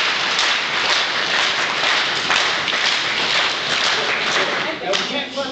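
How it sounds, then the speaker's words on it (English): Room full of people clapping together in a steady group rhythm, dense and loud, continuous applause-like patter with a voice speaking over it toward the end. "Now we can't clap that fast"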